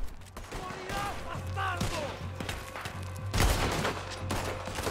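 Revolver and rifle gunfire in the video game Red Dead Redemption 2, a dense rattle of shots over busy game sound with players talking throughout.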